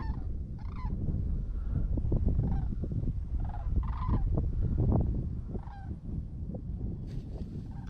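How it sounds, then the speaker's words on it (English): A flock of sandhill cranes gives rolling, honking calls, several birds overlapping over a constant low rumble in the background. "Oh, I can hear the Sandhill cranes."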